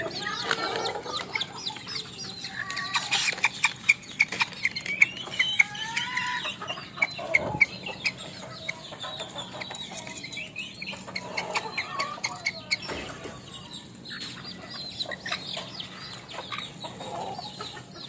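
Micro Serama chickens clucking while eating, a busy stream of close, small clucks and chirps with occasional pecking taps and wing rustles, steady for the whole stretch.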